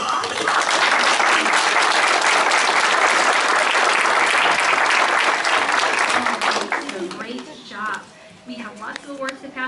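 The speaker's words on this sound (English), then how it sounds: "So let's give them a big round of applause." Loud, dense applause from an audience at a school awards ceremony, sustained for several seconds before thinning into scattered claps while voices start to talk over the fading end.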